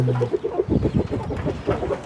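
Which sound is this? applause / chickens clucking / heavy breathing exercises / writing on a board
chickens clucking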